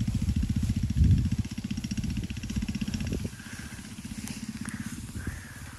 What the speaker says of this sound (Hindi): देखो जी वह मोटरसाइकिल चल पी।